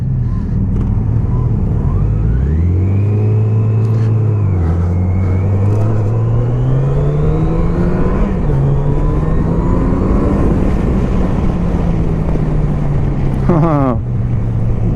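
A 2017 Yamaha FJR motorcycle accelerates hard, its engine pitch rising through the revs and dropping at each gear shift, loud and close over heavy wind rush.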